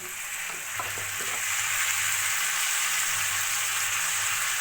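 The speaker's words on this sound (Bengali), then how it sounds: "ডালটা দিয়েও ভালো করে মশলার সঙ্গে কষিয়ে নেব" Soaked red lentils sizzle steadily in hot oil with spices in a pan for methi saag, a loud continuous frying hiss with a few stirring scrapes near the start.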